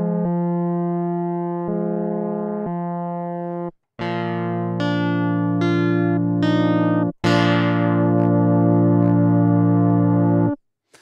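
KRILL virtual analog poly synth on iOS with oscillator sync engaged, playing sustained buzzy chords and notes with bright, harmonically rich tones, broken by short gaps, and no talking.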